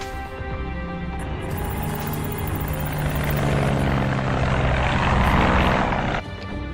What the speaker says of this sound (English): This plane will get you to where you need to go.